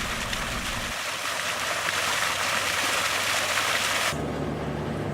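A close, loud, steady rush of water flows into a pond with a Flint and Walling filter, with a low rumble at the start and the splashing thinning out near the end.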